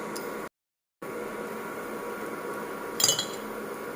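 A spoon stirs spiced potato filling for aloo kachori in a bowl, with a faint scraping hum and one sharp metallic clink near the end; a brief dead-silent gap interrupts early on.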